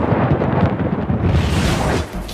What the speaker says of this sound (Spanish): Parece que un rayo golpeó el tablero de metal.